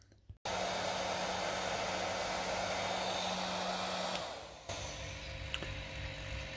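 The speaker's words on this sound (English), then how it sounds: "right now I'm just pulling a vacuum after I've laid some carbon up on the steerer support bits" A vacuum pump pulls a vacuum on a carbon fibre layup for trike steerer supports, starting abruptly with a steady whooshing whine that drops off near the end and then settles into a lower, quieter hum.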